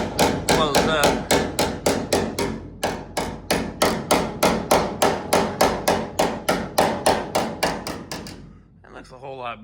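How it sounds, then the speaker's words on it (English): Hammer blows on a welded car body seam to close the gap, about thirty sharp metallic strikes in a fast steady rhythm, close and loud, with a brief pause early on and speech starting at the end. "just take the hammer here and watch this gap, it'll actually close up"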